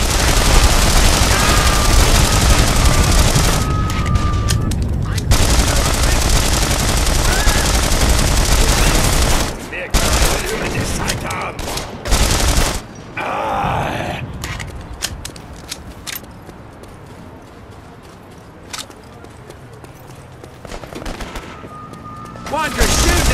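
Rapid bursts of automatic gunfire and explosions rattle through a World War II action game set in occupied Paris, dense and loud at first, then thinning into scattered shots and clatter, with shouted voices mixed in.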